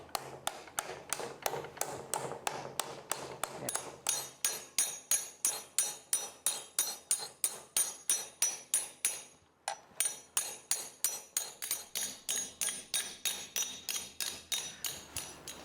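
Sheet metal for a pedal car's radiator shroud is hammered over a forming buck in a fast, even run of close metallic taps, dozens of blows in a steady rhythm with one brief pause.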